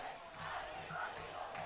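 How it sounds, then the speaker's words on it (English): A high school football crowd's cheer block at Union Mills roars in a steady, distant wash of cheering and shouting, continuous across the short stretch with no distinct voices standing out. "You can hear the cheer block in the background here in Union Mills."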